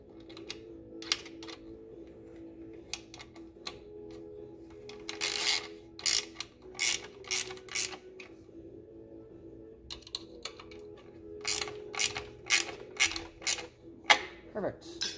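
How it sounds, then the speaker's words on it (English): Allen key and wrench tightening a tiller adjustment lever bolt, heard as a series of short metallic clicks and ratcheting scrapes in bursts over a low background hum. "take our 4 millimeter Allen key, our 10 millimeter wrench, and we'll go ahead and tighten this back up"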